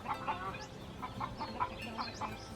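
A hen clucks in a quick, repeated series of short calls after laying an egg, moderately loud in an outdoor setting with faint background noise.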